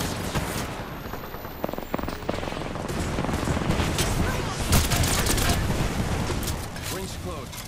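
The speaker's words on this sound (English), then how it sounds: "Getting shot at." Heavy incoming gunfire in Apex Legends while under attack, a continuous loud wash of rapid shots and booming impacts that stays dense and near throughout.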